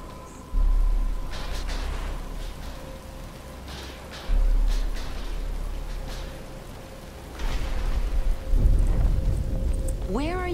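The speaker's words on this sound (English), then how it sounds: "But it's starting to rain" Steady rain falls across a Batman: Return to Arkham game scene, a continuous hiss with low rumbling swells near 0.5, 4.3 and 8.5 seconds, and a brief rising tone closing it out.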